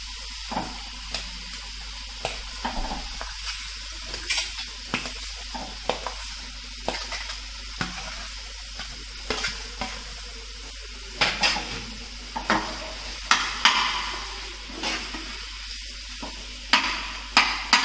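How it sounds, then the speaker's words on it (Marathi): Potatoes being stir-fried with lemon juice, chaat masala and spices for samosa filling: a soft sizzle under repeated scraping and stirring strokes of a spoon against the pan, close and steady, with no speech. "बटाटे चांगले परतून घ्यायचे आहे."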